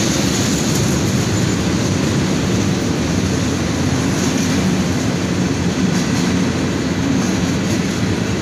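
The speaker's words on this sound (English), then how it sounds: "This was a monster manifest train that took 12 minutes to go by." A long northbound CSX freight manifest train led by a Dash 8 locomotive rolls steadily past an overpass at night, with a loud continuous rumble and a faint rhythmic clatter of wheels over rail joints, and no voices.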